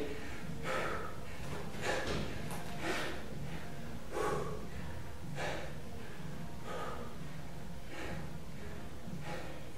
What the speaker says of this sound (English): I'm already breathing heavy